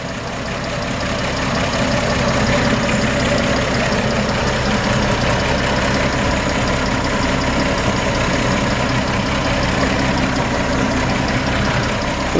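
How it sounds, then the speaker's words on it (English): A 1954 Chevrolet 3100 pickup truck engine idling steadily and loudly up close with the hood open, a constant rumbling chug with light ticking, unchanged throughout. "Pop the hood and let you hear the engine run."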